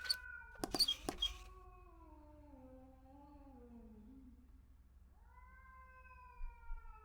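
A cat outside yowls and caterwauls in long wavering wails, first after a few sharp knocks, then again after a pause, fairly faint and distant.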